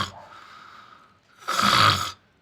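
An aunt snores loudly, a softer inhale followed by a harsh, rasping snore that stops abruptly, with no talking.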